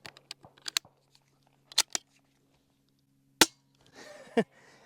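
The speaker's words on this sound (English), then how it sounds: "Now, let's shoot a couple rounds through this bolt action." Subsonic 9mm rounds fired from an integrally suppressed bolt action rifle outdoors: a few sharp, subdued cracks spaced seconds apart, mixed with small clicks of bolt cycling and handling noises.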